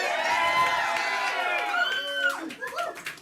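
A political debate audience cheers and applauds Bernie Sanders, a dense roar of crowd noise with whoops that stays loud for a few seconds, then thins out as it fades.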